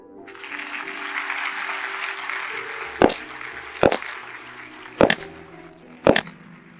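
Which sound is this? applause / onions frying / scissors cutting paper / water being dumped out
applause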